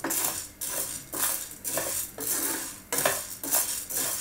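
Sabudana (sago pearls) dry-roasting in a hot pan makes a rattle of grains being stirred and scraped in repeated bursts of about half a second, close and crisp, with no talking.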